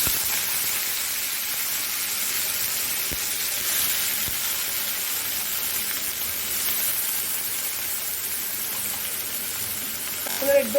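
Chopped carrot, capsicum and French beans tossed into hot oil with frying cumin seeds, giving a steady, even sizzle throughout that swells slightly near the end as the vegetables are stirred, with no voices.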